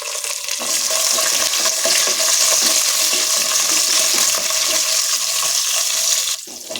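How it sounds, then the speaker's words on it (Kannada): Cashews and capsicum frying in a pan for bisi bele bath, a loud, steady close sizzle that runs unbroken before cutting off at the end. "ಇವಾಗ ಇದಕ್ಕೆ ಗೋಡಂಬಿ, ಕ್ಯಾಪ್ಸಿಕಮ್ ಎರಡು ಹಾಕ್ಬಿಟ್ಟು ನೀಟಾಗಿ ಮಾಡ್ಕೊಳ್ಳೋಣ."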